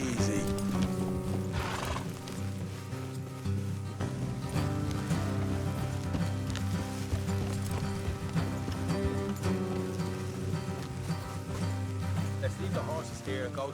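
Horses gallop with rapid, driving hoofbeats and whinny loudly over a dense layer of game music and ambience in Red Dead Redemption 2.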